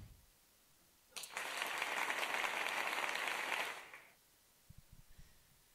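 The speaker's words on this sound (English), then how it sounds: "Gotta appreciate that that real audience cheer there." A real live audience cheers and applauds in one loud, dense swell lasting about three seconds, then fades away, followed by a few faint thumps.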